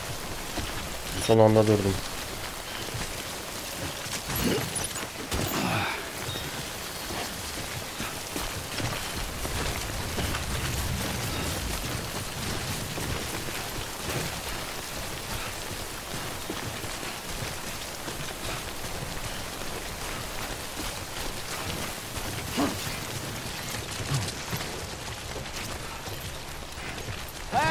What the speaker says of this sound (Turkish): Biraz burada bekleyeceğim yağmurun dinmesine.